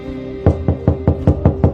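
Knocking on a door: seven evenly spaced, solid knocks in a steady rhythm, loud and close, with no voices.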